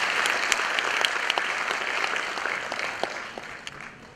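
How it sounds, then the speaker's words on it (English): An audience at a school annual function in Dadar West claps in sustained, dense applause that fills the hall and tapers slightly toward the end, with faint voices mixed in. "Why don't we have a round of applause for that?"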